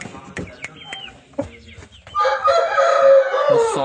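An Aseel rooster crows loudly and close by, a long drawn-out call that fills the second half after a stretch of softer clucking and farmyard noise.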